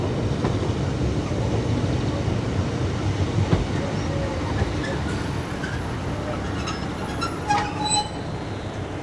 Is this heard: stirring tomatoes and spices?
no